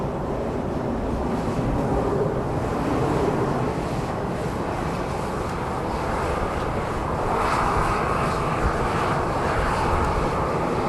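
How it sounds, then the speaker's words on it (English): Boeing 737-700 jet airliner approaching Dallas Love Field, a continuous broad roar that holds steady and swells slightly toward the end, heard from a distance outdoors with some wind noise. "A 737-700 coming our way."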